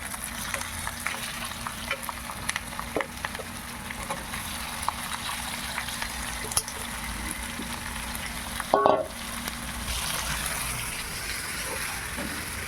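Small fish frying in a pan spiced with turmeric and chili powder for a Sunday fish curry, a steady broad sizzle running throughout with brief stirring clatters and a short sharp knock near the end, no voices.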